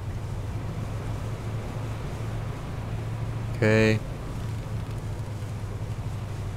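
Boat engine in the video game Fishing: North Atlantic: a steady low droning hum mixed with wind and wave noise, broken once by a brief loud horn-like tonal blast, with one short spoken word.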